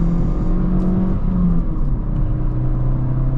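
Honda Civic hatchback fitted with an Si rear suspension, heard from inside while driving on the road: steady engine drone and road rumble with a brief rise in revs, close and continuous, with no voices.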